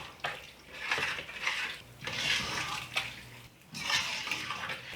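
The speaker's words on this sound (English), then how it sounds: "And just mix everything together." Chili with beef stock and beans is mixed in a pot, giving uneven bursts of wet sloshing and spoon scraping against the pot, close and fairly quiet.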